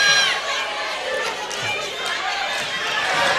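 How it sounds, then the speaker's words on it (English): A home crowd at a college basketball homecoming game at Birthright Alumni Hall gives off a loud, steady wash of chatter, shouts and scattered cheering in a large indoor gym. "this home crowd is shocked inside of Birthright Alumni"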